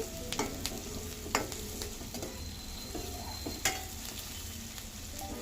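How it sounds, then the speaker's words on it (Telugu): Onions frying in a pan for aloo palak, a soft steady sizzle with a few spatula scrapes and clinks at a moderate distance. "ఈ ఆనియన్స్ మనకు ఇట్లా బాగా ఫ్రై అవుతుంటే"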